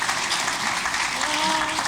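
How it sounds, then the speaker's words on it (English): Audience applause, a short steady wash of clapping from a crowd with no clear breaks, moderately loud and filling the whole moment. "Yeah, you can applaud."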